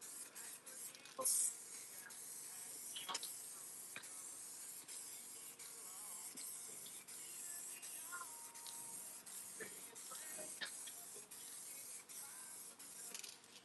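Faint, airy hissing from a spray paint can being used on artwork goes on throughout, with scattered clicks, taps and light rubbing noises over it, and one brief louder burst near the start.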